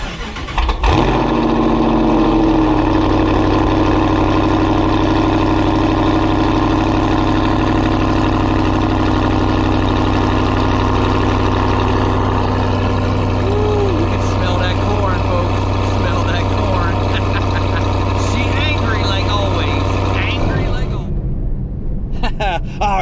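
A cold engine starts up and settles into a steady, loud idle that runs for most of the stretch before cutting off near the end, with a voice talking over it.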